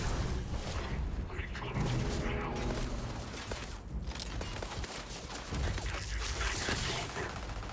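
Pistol gunfire in the space shooter Starfield, rapid clattering bursts of shots and mechanical clicks mixed under a player's talk and game background.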